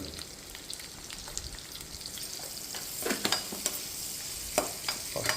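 Food fries in a pan until light golden, a steady soft sizzle with occasional stirring scrapes and crackles near the end, no talking.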